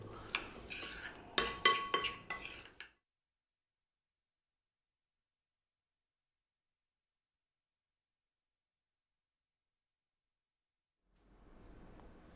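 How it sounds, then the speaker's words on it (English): Bean salad seasoned with salt and black pepper being mixed in a bowl, a few seconds of close clinking and scraping utensil strokes, then silence and faint rustle at the end. "We're going to go salt. We're going to go black pepper. We're going to give this a mix."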